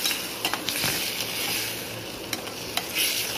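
Tomatoes for pav bhaji sauté on full flame, giving a steady, close frying hiss with intermittent crisp clicks and scrapes from stirring.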